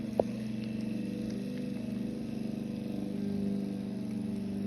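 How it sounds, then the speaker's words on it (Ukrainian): A steady low mechanical hum drones throughout, like a lawn mower engine running outdoors at a distance, with a brief click near the start. "там газон косять на дворі гуде"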